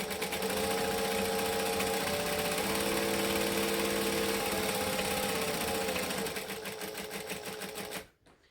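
A sewing machine runs a long top stitch on a laptop sleeve at a long stitch length, a steady close whirring drone that fades and stops near the end.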